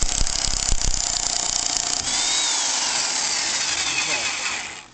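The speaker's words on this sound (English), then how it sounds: "This is an electric impact wrench." An electric impact wrench hammers at a nut on the front shock of a 1983 Mercedes 300SD, a loud, close, rapid rattling burst for about two seconds, then a steady whirring spin that winds down at the end.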